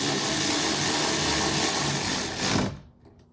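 A power driver whirs continuously as it tightens small screws into plastic on a 1999 Pontiac Grand Prix door during window regulator replacement. The sound is loud and close, then cuts off abruptly near the end.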